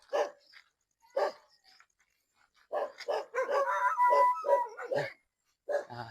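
A dog barks several times in short, irregular bursts, with some higher yips and whimpers mixed in, fairly close by.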